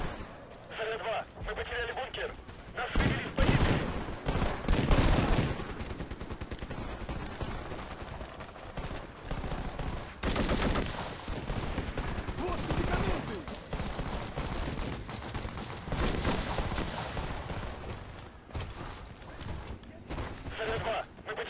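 Rifle gunfire in the battle royale game PUBG, with repeated shots and bursts running throughout under someone talking steadily.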